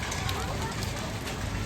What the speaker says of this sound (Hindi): हाँ, तो ओले हैं, हल्के है, छोटा है ओला, लेकिन छोटा छोटा ओला है।